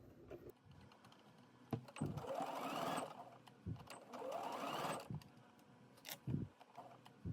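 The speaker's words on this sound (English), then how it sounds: "you're going to straight stitch at a 3/8 inch or 1 centimeter in between the two lines of basting stitches" A sewing machine straight stitching fabric for a summer dress, running in short close bursts of rapid mechanical whirring separated by clicks and pauses.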